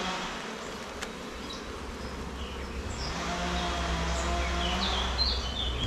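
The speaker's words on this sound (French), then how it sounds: "C'est beaucoup d'abeilles noires." Dense buzz from a hybrid colony of dark honeybees swarming around a hive still building comb, a steady close hum of many wings with faint bird chirps in the background.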